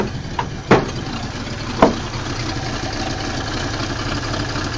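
A car engine idles after a cold start with the choke set, a steady low rumble throughout, broken early by two sharp knocks.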